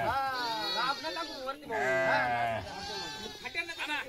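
Goats bleat loudly and close at a livestock sale where goats and sheep are sold, with repeated overlapping wavering cries, one after another, filling the whole stretch.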